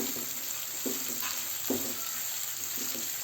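Steady sizzling and crackling of onion, ginger, garlic and coarsely ground chili frying in hot oil over full flame, with a few soft stirring scrapes and clinks, close by and without talk.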